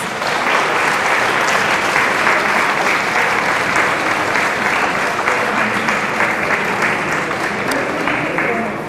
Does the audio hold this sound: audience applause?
yes